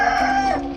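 Chickens in a backyard coop give a short, close, loud vocal call, a steady harmonic cluck-like cry lasting under a second.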